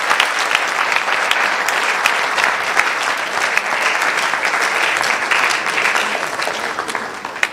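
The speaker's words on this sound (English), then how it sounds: "Please give him a round of applause." A crowd gives a loud, sustained round of applause for a guest of honor at the NSMQ 2025 national championship launch, with dense overlapping claps from a large audience filling the whole stretch.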